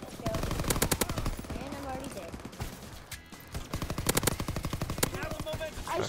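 Rapid bursts of automatic gunfire and single shots from the World War II shooter Call of Duty WWII, loud and dense, crackling in clusters with a short lull midway while a player talks over the action.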